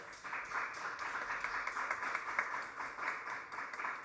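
Applause from a live jazz concert audience honoring a tribute ensemble's singer, a steady, moderately distant patter of many hands clapping that holds evenly throughout.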